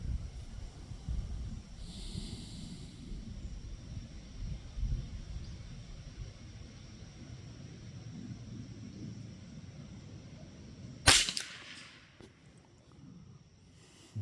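A single sharp crack from a Savage Model 62 .22 LR rifle fired at targets outdoors stands out near the end against a steady low wind-like rumble, with no talking.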